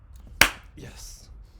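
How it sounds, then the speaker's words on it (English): A single sharp hand clap rings out near and alone, a crisp transient followed by a faint brief tail and quiet room noise. "Sorry about the clapping hand that was there."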